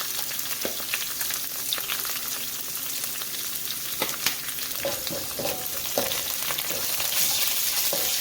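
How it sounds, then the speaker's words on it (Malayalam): Ginger, garlic and curry leaves sautéing in a pan for a breadfruit curry, giving a dense, continuous sizzle up close with occasional spatter pops and light stirring. "ഇഞ്ചി, വെളുത്തുള്ളി, കറിവേപ്പില ചേർത്തൊന്ന് മുരിച്ചെടുക്കാം"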